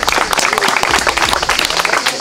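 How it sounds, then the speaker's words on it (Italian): Crowd at a street fight event in Florence applauding a fighter, dense loud clapping and cheering filling the whole moment with voices mixed in. "Un applauso per Gorilla!"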